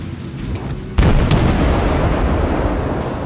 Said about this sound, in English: Got all 3 guns firing now.